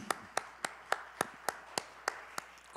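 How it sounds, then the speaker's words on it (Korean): Church congregation clapping in praise during a Sunday morning service, about ten evenly spaced, sharp claps in a steady rhythm, heard alone in a reverberant hall. "주님께 영광의 박수 올려드리십시다."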